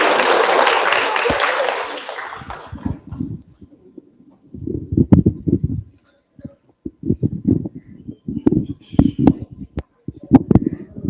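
Audience applause at a Sunday morning Satsang, a burst of many hands clapping for about two seconds that quickly fades, followed by scattered low thumps and quieter room sounds.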